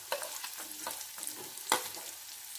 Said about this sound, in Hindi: अब इसे अच्छे से भूनेंगे जब तक कि हमारी जो प्याज है हल्की सॉफ्ट नहीं हो जाती।